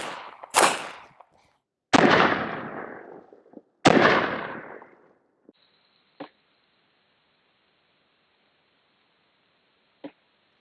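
Two sharp pistol shots of 115-grain full metal jacket rounds fired at body armor, loud and close, each trailing off in echo, followed by a few faint distant clicks and knocks.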